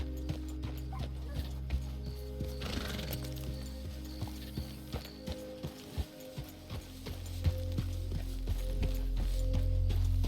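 Rhythmic clip-clop of a horse's hooves at a steady trot in the video game Red Dead Redemption 2, over a low droning hum, with faint mechanical clicks mixed in.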